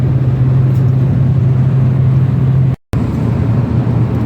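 Car driving on a road in light rain in Saudi Arabia with the heater running, a steady close cabin rumble and hum with a brief dropout near the end, no talk.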